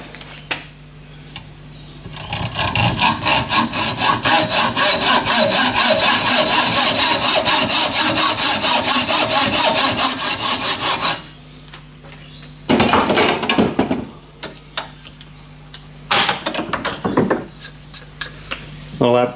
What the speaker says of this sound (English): I'm going to go ahead and cut this off now with a hacksaw